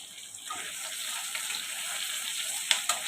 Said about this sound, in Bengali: লাল লাল করে আলুটা ভেজে নিলাম।